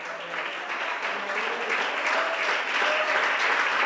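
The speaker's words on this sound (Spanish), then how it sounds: "Dele fuerte ese aplauso a Dios, hermano." Congregation applause at a Spanish-language church service, a steady sustained clapping from many hands filling the room, with faint voices mixed underneath.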